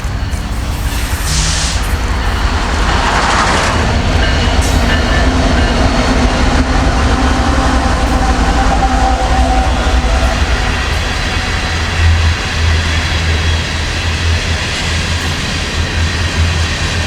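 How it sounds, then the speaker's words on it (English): A Norfolk Southern SD70ACe locomotive leads a freight train past a siding at Plant City, Florida, its loud, sustained diesel rumble and rolling wheel noise filling the scene, with a brief rising whine early on. "this was the Norfolk Southern SD70 Ace and the UP Givo"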